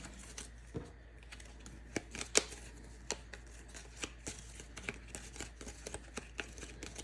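Playing cards shuffled at a tabletop game, a quiet run of soft crisp riffles and taps spaced irregularly across several seconds, heard close and alone.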